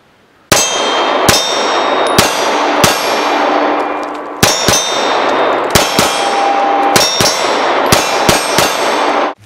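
Bullets strike a full-size steel IPSC silhouette target on a shooting range, producing a rapid series of loud, ringing metallic clangs, each hit's tone sustaining into the next.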